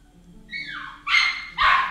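A puppy barks in the video game Beacon Pines, a rising whine followed by two bright, loud yips close up, with no talking.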